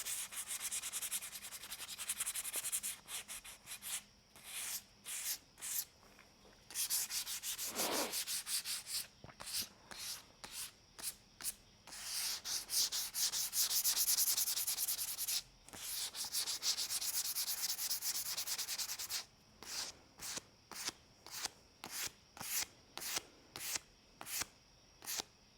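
Sandpaper scuffs a wooden mid-century modern coffee table in rhythmic rubbing strokes: longer sweeps at first, then a run of quick short passes, all close up with no talking.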